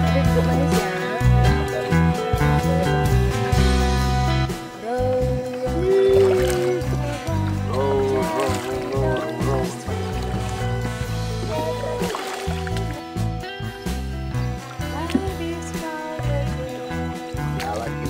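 A boat ride on water at Golden Beach, a lake in a former mining pit, with a steady wash of water and boat noise running throughout, largely masked by loud continuous music.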